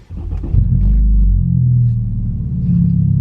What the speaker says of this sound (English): I don't know if you guys can hear that, but my cold start is back on